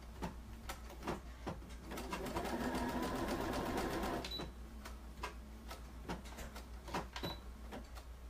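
A sewing machine runs a zigzag stitch along a sundress hem in one sustained whirring burst of a couple of seconds, set between quiet clicks and handling taps, with faint bird cooing in the background.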